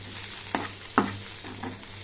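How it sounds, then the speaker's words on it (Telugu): Ridge gourd and onion curry with turmeric and coconut chilli powder fries in a pan on a stove, with a quiet steady sizzle and a few sharp scrapes of stirring near the start and middle, close and moderately loud, no talk. "చూసారా కర్రీ ఎంత చక్కగా వేగిపోయిందో"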